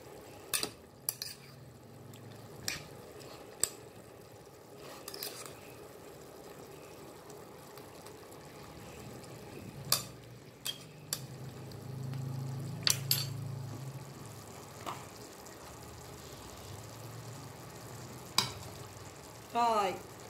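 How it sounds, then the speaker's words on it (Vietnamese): Pork with fried quail eggs and coconut caramel sauce gently simmering on low heat in a pot, a faint steady bubbling hiss broken by occasional clinks and taps of utensils. "cái này mình để nhỏ lửa thấm từ từ nha các bạn"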